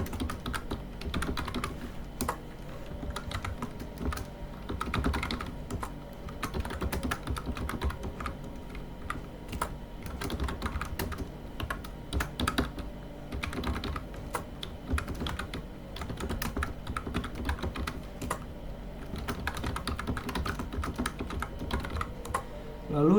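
Steady typing on a computer keyboard while entering an ID, with close, continuous key clicks and clatter in a fast irregular rhythm, no talking.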